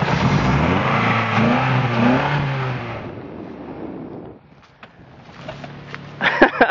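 A demolition derby car engine cranks and revs roughly, a dense rumble that swells and falls, dies to near silence, then sputters and clatters back with uneven bursts.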